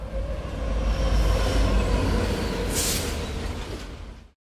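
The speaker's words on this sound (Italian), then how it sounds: "il treno sta entrando in stazione" A train pulls into a station with a steady rumbling roll and a brief hiss partway through, loud and close, then the sound cuts off abruptly.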